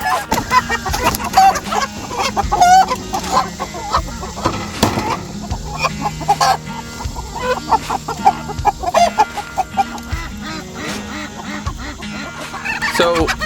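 Meat chickens cluck and murmur together on a small farm, a close and busy chorus of short calls with occasional louder squawks, with no one talking.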